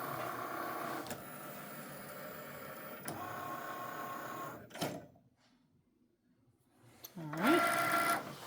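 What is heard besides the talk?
Cricut Maker machine cutting greeting card paper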